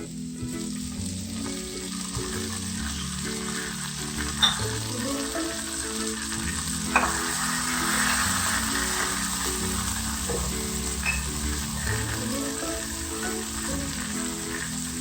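A constant, dense sizzle of tomato and masala sautéing in a pan for mutton liver fry, close and even throughout, with a few faint clicks of stirring and no voices.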